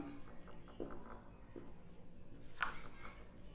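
Chalk or marker writing on a board during a history lecture on the 1857 revolt, heard as a few faint scratchy strokes spaced over several seconds in a quiet classroom, no talking.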